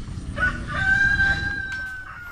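A rooster crows once near a rural hut, a clear rising-and-falling call over a low background hum with no talking.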